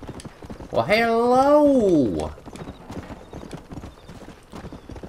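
Horse neighing loudly in the Western video game Red Dead Redemption, a long wavering whinny followed by quick, steady hoof clip-clops under a man's speech.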